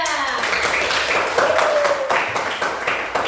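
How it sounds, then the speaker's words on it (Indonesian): Applause from a group of people in an elementary school training session, a steady patter of clapping lasting a few seconds with some voices underneath. "Tepuk tangan untuk kelompok 3."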